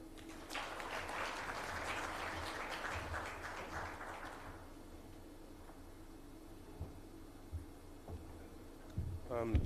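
A meeting audience at a high-level conference on financing for gender equality in Africa applauds its speakers, a fairly quiet, distant round of clapping that fades out after a few seconds into near silence with faint room noises.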